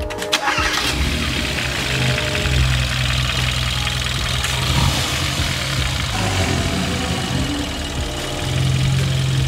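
A car with race motor mounts fires up with a loud crank and catch, then settles into a steady, rumbling idle that stays close and continuous with no talking.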